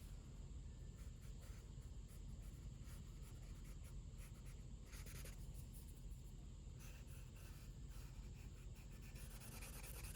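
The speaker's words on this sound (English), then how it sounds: "I'm gonna come back with a white pencil and kind of pull out all that design I just lost." A white pencil scratches steadily across paper while shading a clothing design sketch. The soft, continuous rasping strokes are faint and close, with no voices.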